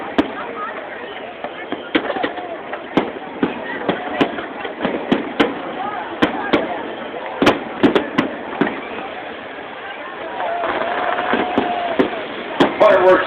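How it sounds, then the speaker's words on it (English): Fireworks pop and crack over a NASCAR race track after a win, a dense run of sharp bangs over about thirteen seconds mixed with crowd noise and a commentator talking. "Fireworks going on now over the track."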